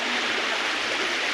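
A waterfall near Kaziranga and Kakochang rushes with a dense, continuous roar, loud and steady throughout with no voices over it.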